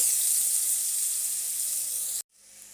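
Mixed vegetables fry in hot oil in a wok, a loud steady hiss that runs unbroken for about two seconds and then cuts off abruptly, leaving a quieter faint sizzle.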